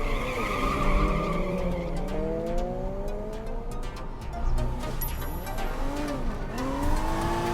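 Cars in Sleeping Dogs Definitive Edition on Xbox One skid with long, repeated tire squeals over revving engines, the squeals sweeping up and down.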